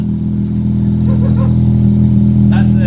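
A decatted Mazda RX8 rotary engine drones loudly and continuously at close range, holding a steady high-revving tone, with brief voices and clatter over the top.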